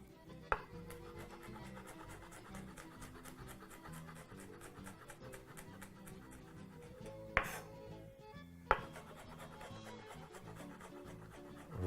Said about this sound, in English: grab about 2 cloves of garlic and proceed to mince or chop those very coarsely